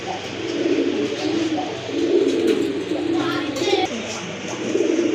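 Pigeons kept for sale coo in soft, repeated low phrases close by, a steady burble running through the whole short stretch with no talk over it.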